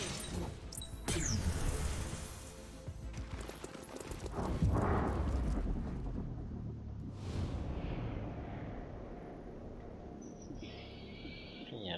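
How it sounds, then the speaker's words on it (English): A thrown grenade goes off in the XCOM Chimera Squad video game: sharp crashing bursts hit early, then a rumbling blast swells and fades into a softer debris tail, with no talking over it. "Throwing grenade."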